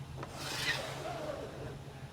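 A big squeegee scrapes excess chalk paste across a chalkboard sign screen, giving one steady, close rasping drag that swells and fades over about two seconds with no talking.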